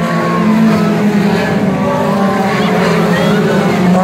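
Race cars roaring around a dirt oval at a 2019 light-category round in Jacaraípe, a steady loud engine drone holding throughout with a commentator talking over it.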